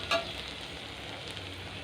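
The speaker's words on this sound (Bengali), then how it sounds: "ডিমটা ভাজা হয়ে গিয়েছে" Egg frying in oil in a pan in a village kitchen, a quiet steady sizzle with a sharp clink near the start, heard close and alone without speech.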